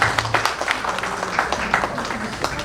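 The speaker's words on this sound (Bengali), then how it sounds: "আসুন আমরা পিপির জন্য একটি জোরে হাততালি দিই।" Clapping from guests at a birthday party for Sasha, a steady patter of many hands with rhythmic bursts, moderately close and continuous throughout.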